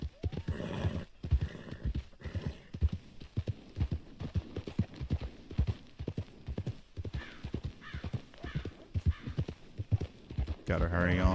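Horse hooves clip-clop in a steady, close rhythm along dark town streets in Red Dead Redemption 2, with a soft background hum and a whinny near the end.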